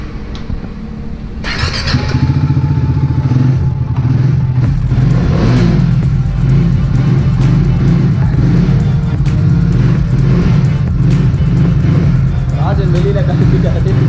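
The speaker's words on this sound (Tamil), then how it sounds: "நீங்க எக்ஸாஸ்ட் நோட்டை கேட்டிருப்பீங்க." A used superbike idling and revving in a showroom, its exhaust note a loud, close, steady low rumble with slight rises, while someone talks over it.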